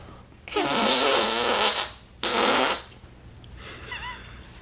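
Two loud, long, raspy fart-like blasts, the first sustained and the second shorter, followed by a faint squeaky tail, with no talking.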